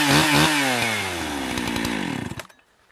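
Chainsaw fired up close by, its engine roaring loud and then winding down over about two and a half seconds before cutting off, with no talking.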